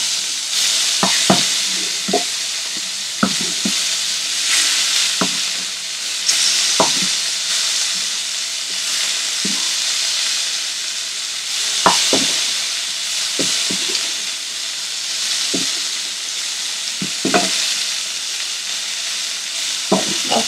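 Prawns coated in ginger garlic paste and spices are tossed and fried in a pan, giving a steady loud sizzle broken by repeated scraping and clattering strokes as the pieces are stirred.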